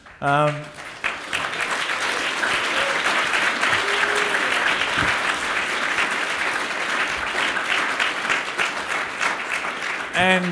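Audience applause for the panellists at a Midsumma 2015 hypothetical panel event, a sustained dense roar of clapping that swells quickly and holds steady for about ten seconds before a brief voice cuts in at the end.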